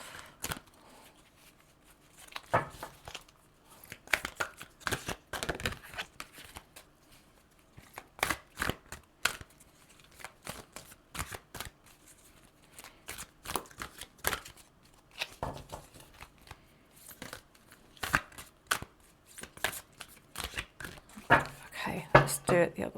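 Large picture cards are shuffled by hand in several rough riffling bursts, sharp papery flutters broken by pauses, with a person speaking between and over them.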